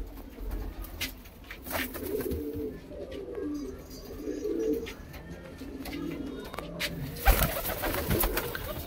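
Several Punjabi fancy pigeons on a rooftop coo in repeated low, rolling calls, close and overlapping, with occasional wing flutters and faint background noise.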